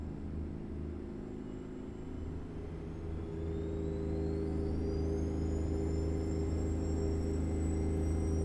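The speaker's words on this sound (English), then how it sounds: "It actually almost sounds like the engine speed drops" A steady Freightliner Argosy truck engine drone in a video game, dropping off throttle, with low rumbling harmonics and a faint rising whine, holding an even idle-like hum throughout with no voices.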